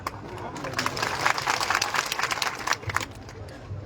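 A crowd at a Congress election rally in Banaskantha claps in a dense, crackling patter that swells and fades unevenly, while a voice from the stage carries over it.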